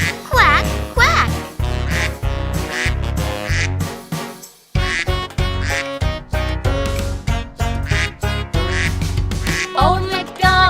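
Sung children's nursery rhyme Old MacDonald with a voice imitating a duck's quack in repeated rhythmic bursts over bright, steady musical accompaniment, loud and close.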